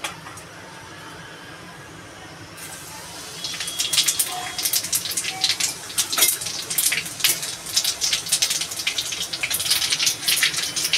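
Cumin seeds hit hot oil in a pan for an ilish and taro curry, bursting into a loud, close, continuous sizzle with crackling pops that persists after a quieter start.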